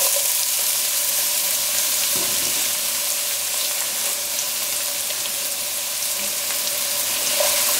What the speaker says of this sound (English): sauteing my onions.